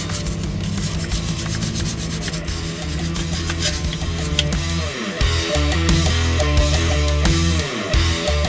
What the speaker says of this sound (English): You're gonna have to use a hard brush